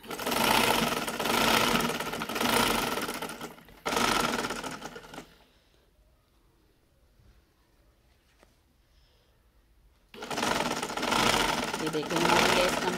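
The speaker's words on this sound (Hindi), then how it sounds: "अब इसकी सिलाई करते हैं हम।" Sewing machine stitching lace onto the slits of a kurti, close rapid whirring runs in two bursts separated by several seconds of near silence before the motor starts again.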